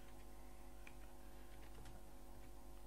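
Typing on a computer keyboard while building a PHP registration form, faint scattered key clicks in a short burst over a steady low hum, no voices.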